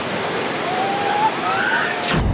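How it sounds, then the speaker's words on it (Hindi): Floodwater roars over a waterfall swollen by heavy rain on the Waghur river near Aurangabad, a steady loud rushing wash that cuts off abruptly at the end. "औरंगाबाद में लगातार हो रही बारिश से खूबसूरत दिखने वाले झरने भी डरावने हो चले हैं"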